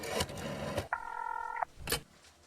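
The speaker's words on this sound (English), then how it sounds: "Phone is fixed. Time to call for a taxi." A telephone in the video game The Darkside Detective gives a short electronic dial tone lasting under a second, set between soft clicks and thumps.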